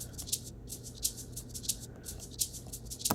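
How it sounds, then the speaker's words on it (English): A soft shaker loop in a halftime beat, with short bright shuffles repeating in an even groove, each hit quiet and crisp, heard alone with a few slightly stronger accents. "the last thing that we have is the shaker pattern that sounds like this"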